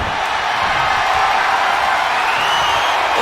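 A wrestling event crowd cheers in a steady, loud roar of voices and whoops that fills the arena, with a commentator's voice mixed in.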